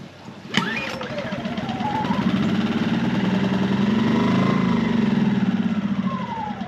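A Harbor Freight Predator portable generator starts with a sharp pull and settles into a steady, loud mid-pitched engine drone with a rising whine, running alone close by.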